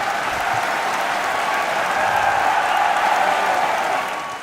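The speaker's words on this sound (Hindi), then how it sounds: "एक बार हमारी स्पेस एजेंसी इसरो के लिए जोरदार तालियां बजाइए।" Loud, sustained applause from a large stage-show audience cheering the space agency ISRO, thick and continuous before it tapers off at the end.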